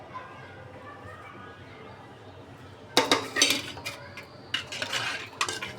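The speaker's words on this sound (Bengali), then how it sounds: "এখন আমি এই যে ডিমটা মিলিয়ে দিব" Egg being stirred into warm milk for pudding, with clinking of a spoon against a metal bowl in quick irregular bursts after a quiet start, and faint voices in the background.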